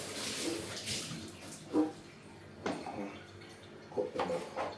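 Wild callaloo leaves being washed in water for a Jamaican cooking pot, with soft sloshing and swishing under a steady running-water hiss and occasional splashes and drips close by.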